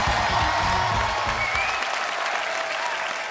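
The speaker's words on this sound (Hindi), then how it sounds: "जोरदार तालियां हो जाए एक बार।" A studio audience on a Hindi comedy show gives loud, dense applause for the guests, with sustained clapping that fades slightly toward the end, while someone speaks briefly at the start.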